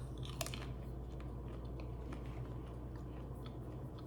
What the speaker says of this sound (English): round one, regular tortilla chips. I'm gonna have one.